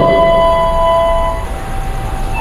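A commuter train waits at Yogyakarta Tugu station before departing, with a steady mechanical hum and sustained tonal whine, loud and close, easing slightly toward the end.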